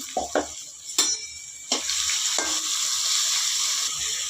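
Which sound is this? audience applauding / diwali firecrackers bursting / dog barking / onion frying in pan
onion frying in pan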